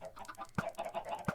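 Chickens clucking in a farming video game, a close cluster of short, rhythmic clucks and squawks with two sharper accents, moderately quiet and heard alone.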